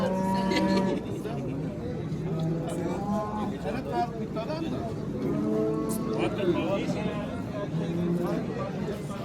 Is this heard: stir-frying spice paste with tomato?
no